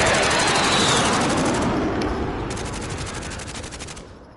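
Sustained automatic gunfire in the video game Warzone on PS5, loud rapid bursts that cut out and resume, then trail off into distant echoing shots.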